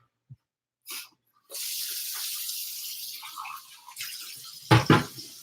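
Kitchen tap water runs steadily to rinse a Cornish game hen in a sink, a continuous hissing stream that starts after a few small clicks. It ends with louder splashing bursts near the end.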